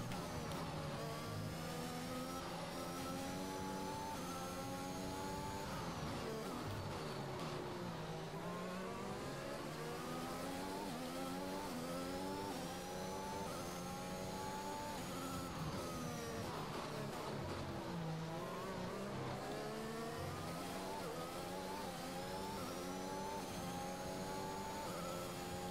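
Formula 1 race car engine from the F1 2021 video game, roaring continuously at high revs through a race, with repeated rising and falling pitch sweeps as the car shifts gears and brakes into corners.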